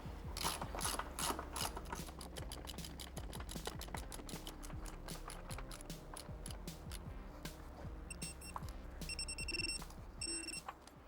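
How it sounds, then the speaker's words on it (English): A torque wrench ratchets rapidly on a 34 mm socket, tightening a BMW S1000RR motorcycle's rear axle to 100 Nm. The clicks are close, dense and steady for about eleven seconds, with brief bright metallic rattles near the end. "Now we're going to torque this to 100 Newton meters."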